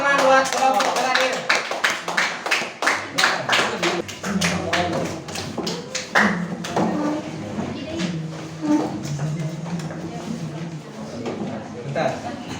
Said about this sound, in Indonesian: Kasih tepuk tangan buat kelompok terakhir.